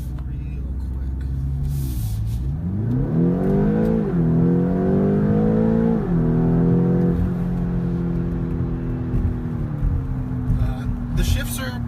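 2017 BMW X5 V8 SUV accelerating hard from inside the cabin, engine roar climbing in pitch through quick gear shifts that each drop it back, then settling into a steady cruise drone, with a voice speaking over it.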